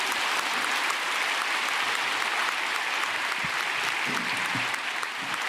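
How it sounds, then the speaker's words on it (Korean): A church congregation applauds to welcome a pastor at a dedication thanksgiving service, sustained dense clapping from a large crowd that stays steady and loud for the whole stretch. "김정한 목사 먼저 나오시를 박수로 환영하겠습니다."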